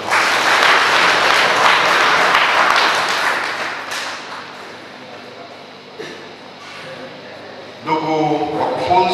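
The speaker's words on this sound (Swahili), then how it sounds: "Mjipigie makofi kwa hilo" Applause from a seated audience at a Tanzanian national election commission training session for voter registration officials, a dense wash of clapping for about four seconds that thins out, then a voice speaks over the room near the end.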